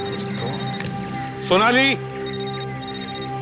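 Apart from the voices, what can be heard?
mobile phone ringing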